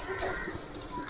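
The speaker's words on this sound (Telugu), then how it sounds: "ఇదిగా నీళ్ళు పోస్తున్నా" Water pours steadily into a pot of country chicken curry, a continuous close splashing gush lasting the whole short moment without speech.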